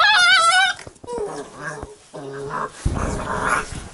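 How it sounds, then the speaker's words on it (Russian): Puppies that have moved outdoors growl in several short, close bursts mixed with whimpers and yips, with brief pauses between them. "Я уже не понимаю, кто там где рычит."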